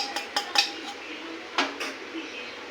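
An egg is beaten in a bowl with a utensil, sharp clinks and taps against the dish in an irregular run, fairly quiet and close, with no talk heard.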